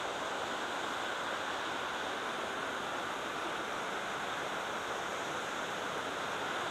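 Pinlac Falls in Barangay Magsaysay, Infanta, Quezon, pours into a six-foot-deep pool as a steady, dense roar of rushing water, close and loud, with no letup and no voices.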